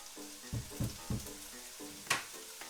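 Garlic sizzles in a frying pan, soft crackling bursts and spits over a low steady hiss, with a sharper pop near the end and no speech.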